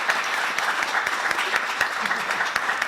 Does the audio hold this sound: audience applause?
yes